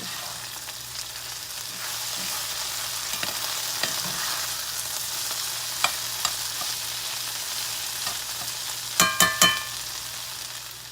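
Food frying in a very hot cast iron skillet during a Southern supper, a steady broad sizzle throughout with scattered pops and a few sharper utensil scrapes near the end; no one speaks.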